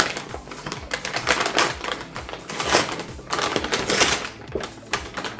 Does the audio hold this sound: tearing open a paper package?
yes